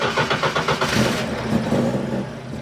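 A Ford Escort Mk1 engine idles steadily up close, its revs dipping very slightly partway through, with no talk over it.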